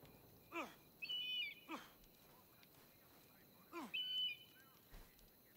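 A bird in Assassin's Creed Odyssey calls repeatedly, each cry a descending swoop followed by a shrill warbling note, heard twice in a pattern over a quiet background.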